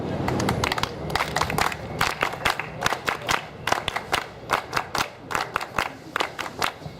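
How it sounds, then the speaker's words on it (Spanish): An audience at an APRA youth federation anniversary event claps in rhythmic unison to welcome a speaker, close and loud, with crowd voices mixed in. "vamos a recibir con palmas apristas al compañero Fernando Arias"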